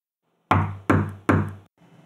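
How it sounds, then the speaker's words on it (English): Three firm, evenly spaced knocks on a classroom office door, loud and close, each ringing briefly before the next, then quiet. "gave 3 firm knocks on the door"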